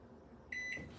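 A microwave oven beeps once with a sustained electronic tone, loud and close, over faint kitchen room noise.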